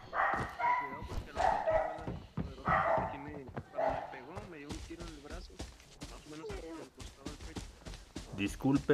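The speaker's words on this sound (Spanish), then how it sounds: "Disculpen si se escuchan esos perros hediondos, son de la vecina." A neighbor's dogs bark in quick yapping bursts, somewhat distant, under someone talking in Spanish throughout.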